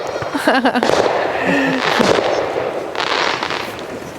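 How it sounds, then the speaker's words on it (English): Fireworks bang and crackle at a July garden farm, a cluster of sharp pops early then a steady rumbling crackle throughout, with a voice talking over them. "They got scared from those fireworks."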